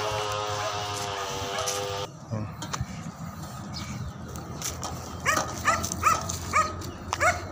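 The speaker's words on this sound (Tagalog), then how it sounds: "Aso namin dalawa." Dogs barking nearby in several short, sharp bursts, clustered toward the end after a steady tone and background rumble.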